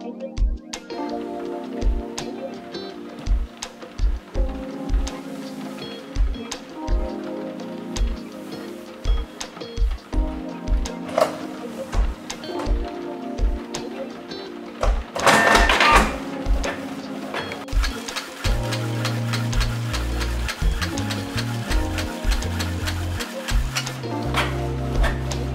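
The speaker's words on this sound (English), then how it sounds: "Let's do also the color test on the photo printer." Canon PIXMA photo printer, a six-ink G-series model, printing a color test page: regular mechanical ticks and clunks of the paper feed, a burst of whirring midway, then denser rhythmic carriage motion, close and clear with no talk.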